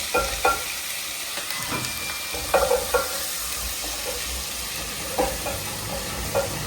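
Green chili, curry leaves and ginger garlic paste sautéing in oil in a steel pan, a constant loud sizzle broken by several sharp stirring scrapes and knocks.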